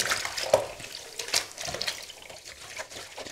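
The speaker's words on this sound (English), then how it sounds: "Just drop your garment in there, get it soaking." Water splashing and sloshing in a sink as an airbrushed T-shirt is dropped in to soak for hand washing, close and steady with no talk.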